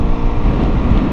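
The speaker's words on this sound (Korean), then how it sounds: "지금 바람 많이 부는데 얼마나 부는지" Strong wind on a hilltop roars hard and steadily into the microphone as loud, low buffeting rumble with no pauses and no voices.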